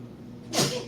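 A single sharp sneeze bursts out near the end, a brief breathy explosive blast rising over a quiet room background.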